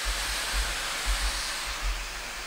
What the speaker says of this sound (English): let's test how powerful the blower is